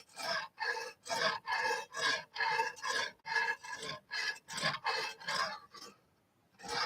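A Lansky knife sharpener's extra coarse stone is drawn along a blade in about a dozen even, rhythmic rasping strokes, each a short scraping burst, before the strokes stop.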